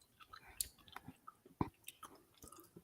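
Someone chewing food close up, with soft wet mouth sounds and a few sharper crunchy bites spread through the short stretch, fairly quiet with no talk.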